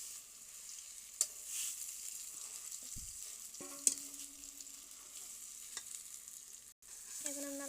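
Mashed bharta frying in a pan while being stirred, a faint steady sizzle with scattered scraping strokes and a few soft clinks.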